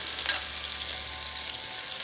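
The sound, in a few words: beef chuck pieces sizzling while browning in a pan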